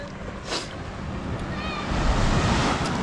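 Sea waves wash and rumble at close range along a coastal terrace, a loud continuous surf swelling toward the end and mixed with gusty wind buffeting the microphone.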